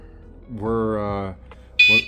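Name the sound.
kayak trailer alarm beeping when locked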